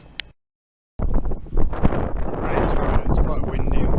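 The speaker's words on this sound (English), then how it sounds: "It's quite windy." Wind blowing into the microphone near a coastal lighthouse in Kenting, Taiwan, arriving after a brief silence as a loud, uneven rumble of gusts that keeps buffeting to the end.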